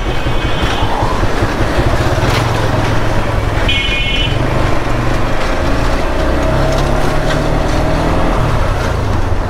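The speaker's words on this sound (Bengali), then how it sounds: "বাইক ভাগতেছিল না, এখন ভাগতেছে।" A motorcycle on local streets, freshly serviced with Motul 7100 10W-40 full synthetic engine oil, gives a steady, loud roar of engine, road and wind that runs unbroken throughout, with no one speaking.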